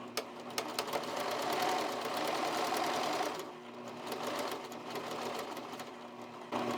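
A sewing machine runs a steady straight seam with a ½ inch allowance on fabric for cabin shorties, its fast even stitching loud and continuous, easing slightly partway through before carrying on.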